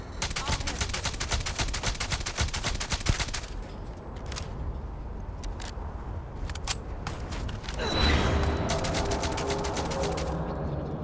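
Rapid automatic gunfire in Starfield, with bursts of fast clattering shots, a quieter stretch of scattered single shots, then heavier sustained firing near the end, under occasional speech.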